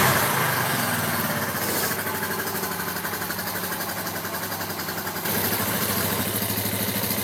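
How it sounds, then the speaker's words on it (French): A Suzuki GN 125 motorcycle engine starts and then idles close by, a dense, steady mechanical chugging with slight shifts in tone and no talking. "on démarre pour faire tourner un petit peu le système d'huile sur la moto"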